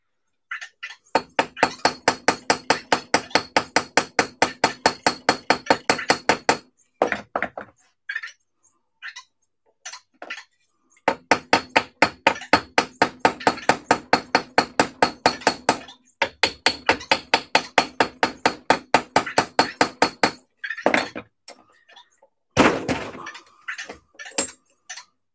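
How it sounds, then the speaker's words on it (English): A hammer strikes an aluminum part on an RC speed car over and over in fast, even bursts of sharp metallic taps, pausing briefly between runs, close and loud with no talking. "Because it's aluminum, should be able to soften it just by hammering it."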